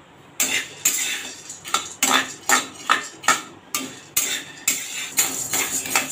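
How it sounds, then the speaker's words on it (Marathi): Chana dal, washed and still slightly damp, is dry-roasted in a hot kadhai with a metal spatula. Sharp scraping and clinking strokes repeat in an irregular rhythm, close and fairly loud. "आता कढईमध्ये इथे मी चण्याची डाळ भाजून घेते।"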